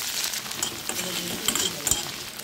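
Peeled garlic cloves and small shallots sizzle in hot oil for a Tamil chutney, a steady close crackle broken by the occasional stir or scrape of a spoon.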